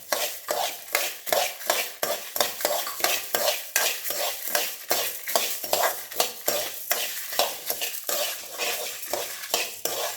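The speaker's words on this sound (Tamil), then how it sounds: "இது நல்லா வந்து செவக்க வறுக்கணும்" Coriander seeds and red chillies dry roasting in a pan, stirred in quick repeated scrapes and rattles with a steady rhythm, close and fairly loud, no voices.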